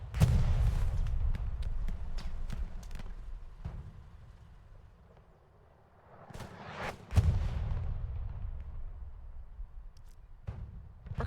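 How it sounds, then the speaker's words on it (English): Artillery fire in a World War II video game match at Sainte-Mère-Église: heavy low booms and rumbling blasts recurring over several seconds, with sharper gunshot cracks between them, loud, with a brief lull partway through. "Great artillery."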